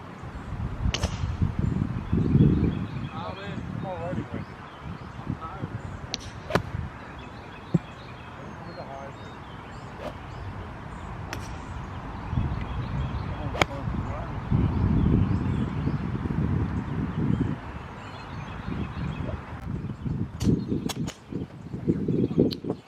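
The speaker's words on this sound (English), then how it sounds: "So here I'm practicing hitting my irons off of a tee" A 4-iron strikes golf balls off a tee during practice, several sharp, distinct clicks spaced a few seconds apart against wind noise and a person talking.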